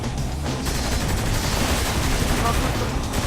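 Rapid, dense gunfire crackles without pause through the whole moment in Saints Row The Third, loud bursts of automatic shots layered with game noise as players talk over it.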